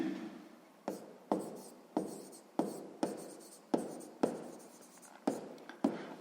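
A pen writes out a sixth-grade math solution on paper in a steady run of about ten short, scratchy strokes, each a crisp scrape that quickly fades, close and fairly quiet with no talking.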